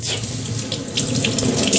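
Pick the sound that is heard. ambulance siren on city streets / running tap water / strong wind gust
running tap water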